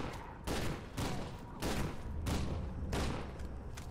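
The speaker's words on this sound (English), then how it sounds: "There's a shotgun, here we go." Shotgun blasts in the F.E.A.R. 2 video game, about five loud booming shots spaced roughly half a second apart, each with a rolling tail, set against constant in-game background noise.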